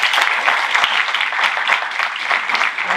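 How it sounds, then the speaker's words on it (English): Loud, dense applause from an indoor audience at a Sacramento health-equity briefing fills the whole stretch, steady clapping with no voices rising above it. "give yourselves a round of applause for that"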